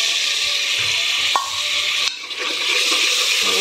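Chopped onions and tomatoes fry in a pan for a drumstick curry, a steady close sizzle with occasional stirring clinks and scrapes.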